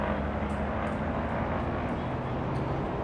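Aircraft engines run at takeoff power in the X-Plane 11 flight simulator, a loud, dense, steady roar with no breaks across the whole stretch and no voices.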